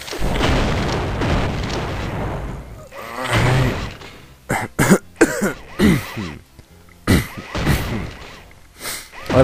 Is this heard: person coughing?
yes